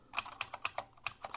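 Typing on a Unicomp Ultra Classic keyboard with buckling spring switches, a quick run of sharp, bright clicks in an uneven rhythm, close but fairly quiet, with no talking.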